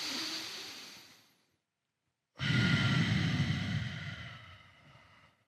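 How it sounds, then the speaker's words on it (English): Slow, deep yoga breaths held in a lunge pose: a long audible exhale fading out, a brief silence, then a strong inhale-exhale rush of air, close and alone without talk. "And then we'll do 3 more breaths here."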